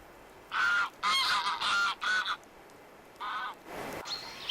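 Several geese honk in flight in short, separate calls, a quick run of four followed by a pause and a couple more, fairly distant against quiet background.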